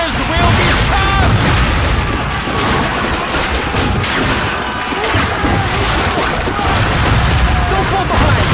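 Artillery shells explode again and again in the PS2 war shooter Call of Duty: Finest Hour. Loud booms and crashes come in close succession over a constant roar of battle, with voices shouting over the din.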